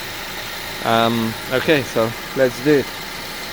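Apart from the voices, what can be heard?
BMW 320i E90 engine idling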